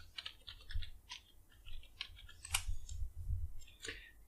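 Soft, irregular key taps on a computer keyboard, faint and close, a quick scattered run of clicks typing a search term, with no voices over them.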